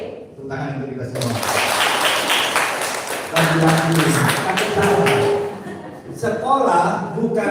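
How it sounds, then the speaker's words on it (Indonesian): Audience of students applauding at a school training session, clapping that rises and falls in waves under and around a woman's speech. "Tepuk tangan untuk kita semua."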